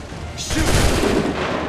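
A musket volley crackles in Assassin's Creed III: a dense, loud burst of massed gunfire that swells around the half-second mark and rolls on in a ragged roar before tailing off.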